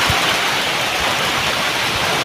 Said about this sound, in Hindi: आज बहुत बारिश हो रहा है